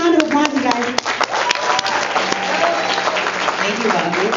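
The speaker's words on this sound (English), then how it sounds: "Give CC a round of applause" An audience at a Bernie Sanders campaign meeting in Riverside gives a round of applause: dense, continuous clapping with voices talking loudly over it throughout.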